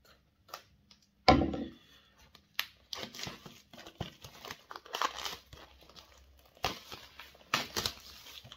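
Plastic wrap crinkles and tears off an Evil Dead Rise 4K steelbook, with sharp crackling bursts and softer rustles coming close in a quiet room.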